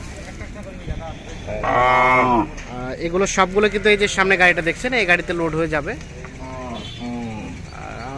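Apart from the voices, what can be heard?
cows and calves mooing at cattle market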